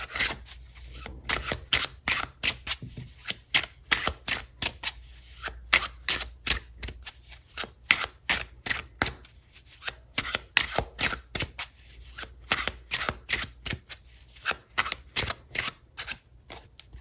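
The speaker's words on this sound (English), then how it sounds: "Let's pull some more cards and then we'll see where we're at." Tarot cards shuffled and drawn by hand for a love reading, a rapid run of crisp riffling flicks and slaps, close and fairly loud, continuing with only brief pauses.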